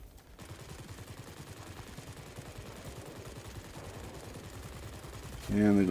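Aircraft machine guns fire in the World of Warplanes video game as a dense, steady rattle of rapid shots under continuous engine drone, ending in a sudden louder burst with a tonal warning.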